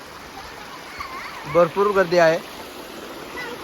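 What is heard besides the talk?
flowing stream water at a lake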